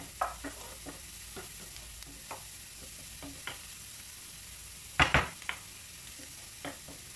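Chopped parsley frying in a pan, a soft steady sizzle broken by repeated light scrapes and taps of a utensil stirring, with a louder clatter of knocks midway.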